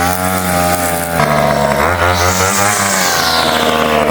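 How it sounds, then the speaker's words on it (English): A string trimmer cuts grass at a campsite, its small two-stroke engine whining loud and close, the pitch rising and falling as the throttle changes. "Trimming some grass here."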